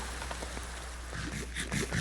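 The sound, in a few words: rain falling in a video game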